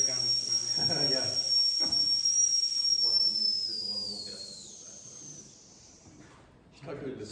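A shrill steady whistle on a steam engine demonstration sounds loudly, then slowly falls in pitch and fades away as muffled voices talk beneath it.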